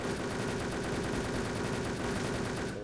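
Rapid automatic gunfire from the online shooter Wolfteam, a loud, dense burst of machine-gun shots that rattles on without pause for nearly three seconds.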